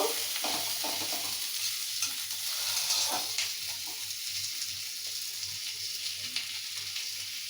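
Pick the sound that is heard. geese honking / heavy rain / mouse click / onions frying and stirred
onions frying and stirred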